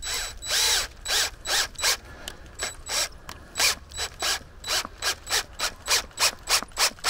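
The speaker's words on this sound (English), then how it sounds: "So I'll put the screw and washer in." A screw and washer are driven into an oak stake while planting an orchard: about twenty close, rhythmic rasping ratchet-like bursts, steady and regular, with no talking.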